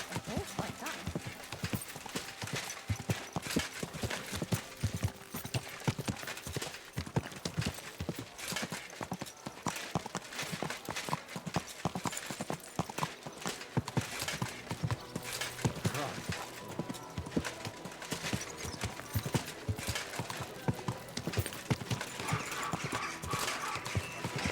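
Steady clip-clopping hooves from a horse in Kingdom Come: Deliverance II, continuous and fairly loud, with a busy layer of background game sounds and occasional voices.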